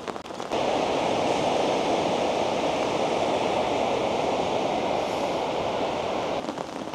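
Steady, loud roar of surf washing continuously under strong gusty wind at a seaside campsite, a dense broadband rush with no clear individual breaks, heard alone without voices.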